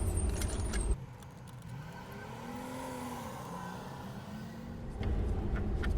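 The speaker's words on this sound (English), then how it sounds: "So slide in your Porsche tool and turn counterclockwise to remove them." A Porsche special tool slides in to loosen inverted M6 nuts on a 2005 Porsche Cayenne brake light, producing short, faint metallic clinks and jangles at the start and end, with a quiet pause between.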